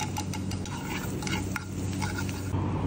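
Spices sizzle in a tablespoon of butter with ginger paste and garlic paste while a utensil stirs them in the pan, producing close, steady frying hiss and scraping.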